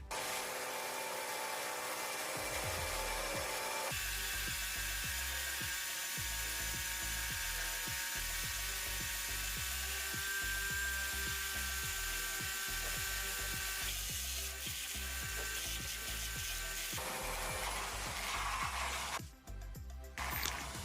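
A cordless drill whirs against wood with a grinding, ratcheting chatter as its gears slip and it fails to bore in; the rough clicking repeats throughout, fairly close.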